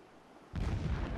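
Howitzer shells exploding in Horizon Zero Dawn, a sudden loud burst of heavy booming blasts that starts partway through and rumbles on in a dense, continuous barrage.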